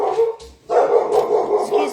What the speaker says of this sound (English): Excuse my dog, I apologize.